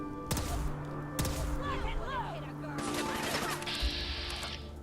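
Gunfire in the Sim Settlements 2 game, a few sharp shots spaced apart amid game noise and background beeps and tones, with a voice talking underneath.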